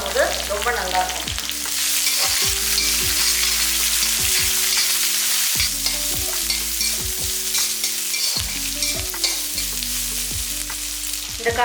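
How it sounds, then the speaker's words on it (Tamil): Sliced onions with cabbage sauté in a pan, a continuous loud sizzle broken by repeated scraping and clanking of a spatula against the metal, with no talking. "வெங்காயம் இந்த அளவுக்கு நல்லா வதங்கட்டும்"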